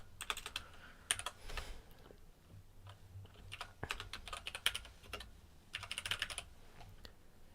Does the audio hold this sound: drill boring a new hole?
no